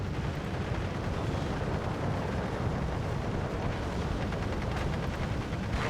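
Mortar and artillery fire in the Steel Division II war game, a dense, continuous barrage of booming blasts and rumbling explosions that overlap into a loud, unbroken roar.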